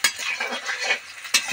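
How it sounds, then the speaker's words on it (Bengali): Onions fry in a pan, lightly sizzling while a utensil scrapes and stirs in uneven strokes, with one sharper clink near the end and no voices. "এই যে এখানে পেঁয়াজটা আমার লাল লাল করে ভাজা হয়ে যাচ্ছে"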